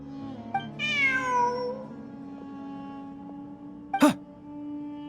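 A cat in the game Genshin Impact gives one clear, drawn-out meow, followed a few seconds later by a brief, sharp chirp-like call against a soft ambient hum.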